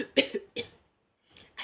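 A person coughs from thick smoke left by a matatu minibus, two sharp close coughs followed by a pause and then two more softer coughs.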